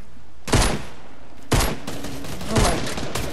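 Gunfire in the Fortnite video game: three loud bursts of shots about a second apart, each a sharp crack with a short rattling tail, close and with no talk.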